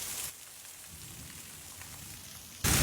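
Heavy rain pours steadily as a dense, hissing wash at a house with a flooding courtyard, swelling suddenly louder near the end. No clear thunder stands out.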